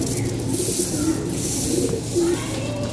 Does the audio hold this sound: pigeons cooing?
yes